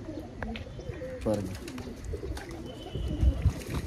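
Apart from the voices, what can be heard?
black pigeons cooing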